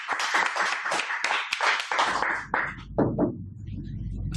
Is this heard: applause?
yes